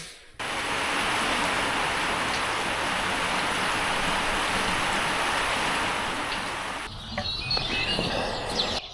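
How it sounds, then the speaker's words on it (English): Steady rain falls on a farm, a dense, even hiss of drops that holds for several seconds and then stops, leaving faint scattered drips and light ambient noise. "First half decent rain of August, so very excited."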